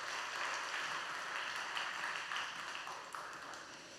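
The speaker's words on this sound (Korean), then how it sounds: "우리 박수하겠습니다" Congregation at a youth worship service in a church applauding, a steady, dense wash of many hands clapping that holds at an even level throughout.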